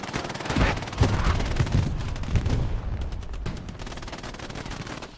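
Dense, rapid bursts of MG42 machine gun fire mixed with surrounding gunfire and distant explosions in a Hell Let Loose battle near Carentan warehouses, loud and continuous with overlapping rattles.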